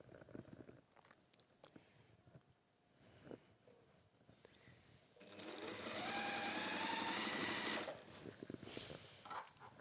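A domestic sewing machine stitches scrappy log cabin quilt blocks in one steady, fast whirring run of about two and a half seconds, preceded and followed by quieter handling clicks and rustles in a quiet workshop.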